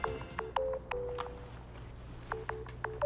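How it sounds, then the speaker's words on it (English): A cell phone rings in Marvel Ultimate Alliance 3 with a repeating electronic tone pattern, two bursts of beeps separated by a pause, fairly quiet over a low hum. "Getting a cell phone call?"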